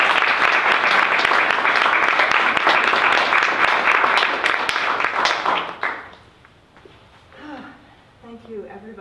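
An audience at a poetry prize ceremony in a bookshop applauds the prize winner, with loud, steady clapping lasting several seconds before it fades out and a voice begins speaking.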